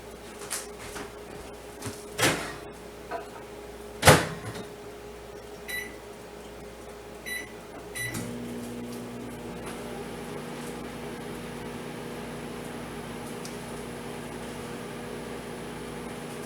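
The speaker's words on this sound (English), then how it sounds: "I'm going to put it in the microwave just long enough to get" Microwave oven softening butter in a home kitchen, a few clicks and a beep, then the steady hum of the running oven with its turntable motor, close and moderately loud, with no talking.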